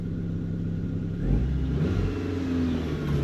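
A car engine idling steadily on its own before an MOT test, with no revving. The low rumble is close and continuous, and it swells slightly partway through.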